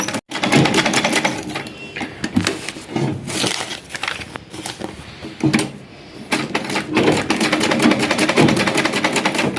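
A sewing machine stitches sleeve fabric in close, loud bursts of rapid mechanical whirring and clatter, separated by short pauses and a few sharp clicks.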